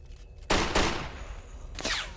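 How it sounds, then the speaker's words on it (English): Gunfire in the S.T.A.L.K.E.R. video game: a sharp burst of shots cracks out, followed by a decaying rattle and a later smaller burst, loud and echoey as rounds ricochet off a wall. "I think that was supposed to be it ricocheting off the wall"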